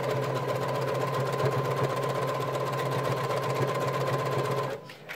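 A sewing machine stitches a knit hat in a fast, steady mechanical hum with a regular needle rhythm, close and loud, running continuously before stopping abruptly near the end.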